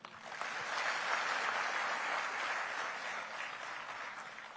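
An audience at a government development-works inauguration event in Banaskantha claps together, a sustained, dense wash of applause that swells quickly and holds steady without voices.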